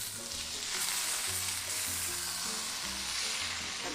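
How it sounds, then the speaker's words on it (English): Instant boxed hash browns sizzle loudly and steadily in a pan while a utensil scrapes across the bottom, with rhythmic low scraping strokes under the continuous frying hiss. "I'm scraping the bottom of my pan as I go"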